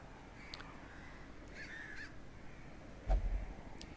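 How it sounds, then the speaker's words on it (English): Crows cawing in the ambience of the video game Darkest Dungeon: a few faint, scattered caws over a quiet windy background, with a louder caw near the end. "I do like that this game has the ambience of wind and crows cawing."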